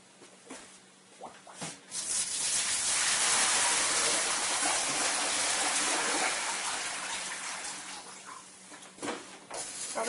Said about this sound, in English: So I'll just empty the bucket.